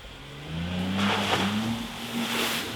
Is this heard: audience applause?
no